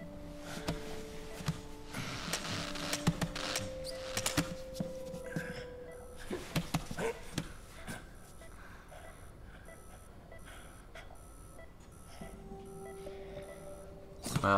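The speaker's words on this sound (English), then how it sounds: "those alarm sounds" Electronic alarm beeps in Metal Gear Solid 4, steady repeated tones over game sound effects, fairly quiet, with pauses and a second beeping pattern near the end.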